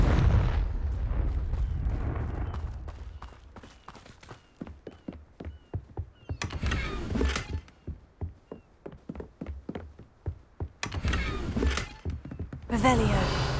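Confringo explosive spell blasts in Hogwarts Legacy land as a string of heavy booming thumps and rumbling bursts, some in quick succession, with louder noisy blasts scattered through and a voice at times.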